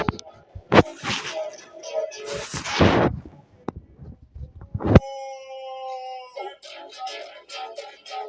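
TNT charges set off in a village in a video game: a few heavy, noisy blast bursts arrive close together, then a steadier run of bright, tonal game effects.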